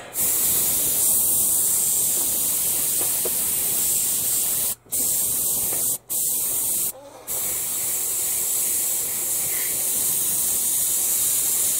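Airbrush spraying pure acrylic lacquer with acrylic thinner gives a steady, loud, close hiss that drops out in brief breaks near the middle and picks straight back up.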